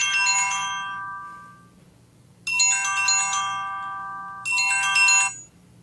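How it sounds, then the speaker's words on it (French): A telephone ringtone plays in three bright electronic musical bursts separated by short gaps, close and clear with a faint low hum beneath. "J'ai un téléphone, je vais être obligé."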